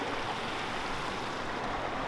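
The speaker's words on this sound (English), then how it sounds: "Next to this little waterfall." Small waterfall in a creek rushing steadily and close, a dense continuous wash of falling water with no pauses and no voices.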